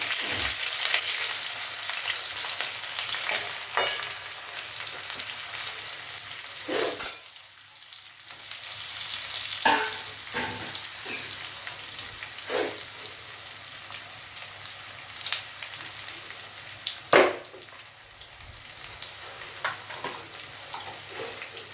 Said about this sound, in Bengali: এখানে একটু তেজপাতা আর গরম মশলা দিয়ে দিলাম, আর একটু পেঁয়াজ ভেজে দেবো।